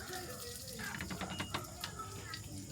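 Water running from a tap at a campsite in Tarlac, a soft steady trickle and splash heard faintly while people chat nearby.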